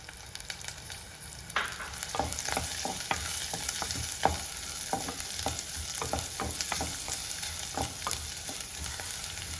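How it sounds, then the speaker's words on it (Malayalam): Shallots and green chillies sizzle and crackle in hot oil in a pan, a dense, continuous frying hiss with sharp spatter pops and some stirring, close and loud. "നമ്മുടെ എണ്ണ ചൂടായി വന്നിട്ടുണ്ട് ഇതിലേക്ക് ചെറിയ ഉള്ളി ചേർത്ത് കൊടുക്കാം ചെറിയ ഉള്ളിയുടെ കൂടെ തന്നെ നമുക്ക് പച്ചമുളക് ചേർത്ത് കൊടുക്കാം"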